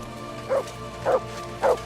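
Dog barking in the video game Kingdom Come: Deliverance II, three short evenly spaced woofs rising over a low steady background hum.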